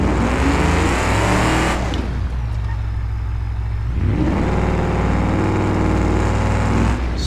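A Ford Crown Victoria with its muffler ripped off in BeamNG.Drive roars loudly and raw, rising and falling through revs with a brief drop in the middle before climbing again.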